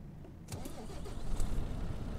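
A KrAZ 64431 truck in American Truck Simulator cranks over and fires into a deep, rumbling idle that swells slightly after the start, heard alone with no talking.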